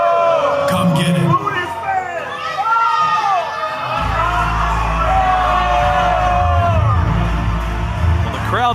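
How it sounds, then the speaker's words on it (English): Loud crowd at a professional wrestling arena roaring, whooping and yelling, a sustained wall of cheers with sharp individual shouts on top and a deep rumble building midway. "the crowd deafening here at Hotpoint Davis Arena"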